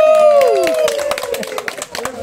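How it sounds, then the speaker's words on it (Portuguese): Crowd at a gender reveal party clapping in quick scattered bursts under a voice with descending sung or shouted tones, the claps irregular and lively throughout. "palmas, palmas, palmas."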